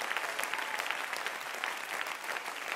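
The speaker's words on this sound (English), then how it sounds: "If you got the Holy Ghost, clap your hands" A church congregation at a Sunday evening worship service claps hands together, a dense, continuous patter of many hands at a moderate distance, fairly soft and even, with no voices standing out.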